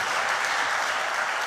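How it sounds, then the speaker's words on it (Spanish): Brief, steady applause fills a church as the congregation claps for the Lord, a dense wash of hands with no pauses. "Denle un aplauso al Señor, hermano."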